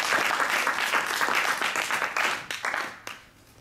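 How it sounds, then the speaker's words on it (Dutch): An audience at a Dutch lecture event applauds a professor with dense, steady clapping that stays loud for a few seconds and then thins out and fades. "Een applaus voor professor Wekker."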